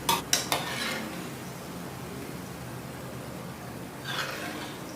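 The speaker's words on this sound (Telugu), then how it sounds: "ఈ బోండాలన్నీ కూడా ఈవెన్గా వేగటం కోసం గరిటతో ఈ విధంగా కలుపుతూ ఉండాలి" A ladle stirs banana bondas frying in hot oil, giving a few quick metallic scrapes against the pan at the start and again near the end over a steady, soft sizzle.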